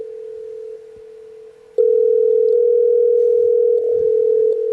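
A steady electronic telephone tone drones unbroken on the line, stepping louder partway through, with faint clicks and low handling bumps beneath it and no one answering.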